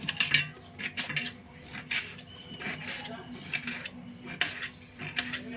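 Cucumber is chopped into small pieces in a village kitchen, giving irregular close knife taps and clinks of utensils in a busy, uneven rhythm, with a voice faintly talking in the background.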